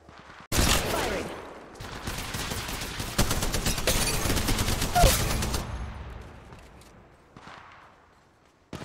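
Rapid, dense gunfire in Apex Legends Mobile, with loud sustained bursts and overlapping shots lasting several seconds, then tapering off to a few scattered distant shots.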